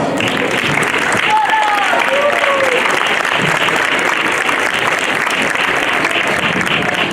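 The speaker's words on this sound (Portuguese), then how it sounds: "Uma salva de palmas." Sustained applause from a crowd fills the room, dense and steady clapping with a few voices briefly rising above it.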